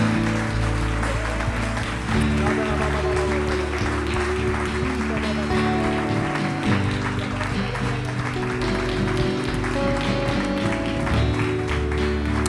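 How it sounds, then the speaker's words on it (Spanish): A church congregation applauds steadily and fairly loudly for several seconds, a dense continuous wash of clapping with some music or voices faintly mixed underneath. "Dele un aplauso al Señor."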